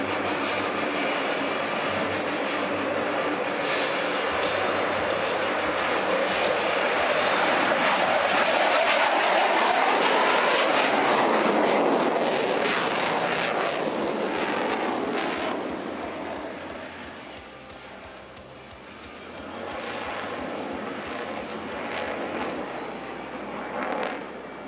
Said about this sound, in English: On takeoff, watch as Chin selects maximum afterburner, rolls the aircraft 360 degrees with the landing gear and flaps down